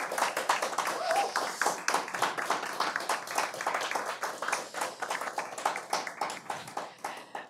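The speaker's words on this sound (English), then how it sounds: "Let's give a welcoming applause to Liz Dobson." An audience claps in welcome as a speaker is introduced, a dense and steady round of applause that carries on evenly throughout at moderate volume.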